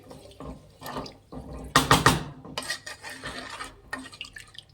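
Rice and water mixed in a metal pot for biryani produce close sloshing swirls and spoon scrapes against the pan, with a louder splashy burst in the middle and lighter stirring before and after.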